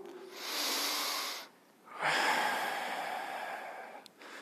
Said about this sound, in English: get in through the nose, out through the mouth, and I want you to focus on your exhale and really slow it down